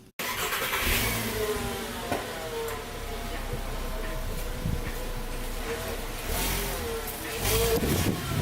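A car engine revs hard and repeatedly through a loud, raw exhaust with mufflers being removed, close and dominant throughout with a brief voice underneath.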